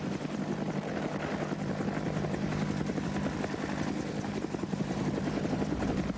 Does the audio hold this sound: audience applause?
no